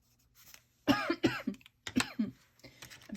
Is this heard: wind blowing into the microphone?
no